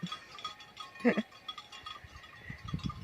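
A sheep on a farm gives one short bleat, fairly close, among quiet rustling and faint background sounds, with no clear talking.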